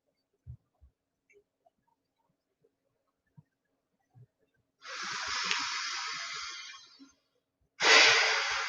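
A few faint breath sounds come first, then two long, close, airy breaths during a yoga recovery session, the first drawn steadily for about two seconds and the second a louder, shorter rush of air.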